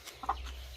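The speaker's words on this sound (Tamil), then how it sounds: "அந்த கோழி குஞ்சை பார்க்க தான் நாங்கள் போனது கோழிக்கிட்ட." A farmyard hen gives a single short, close cluck near her chicks, then quiet background remains.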